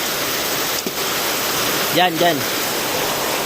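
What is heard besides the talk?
strong wind and rain outdoors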